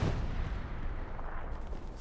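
A distant explosion in the World War II shooter Hell Let Loose, a heavy low rumbling boom with gunfire-like thuds rolling on for about two seconds, no voices over it.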